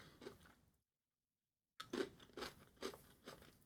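Crunchy chewing of a Pods S'mores snack, a series of close, loud bites and crunches after a short silence, coming in an uneven rhythm of about four bursts.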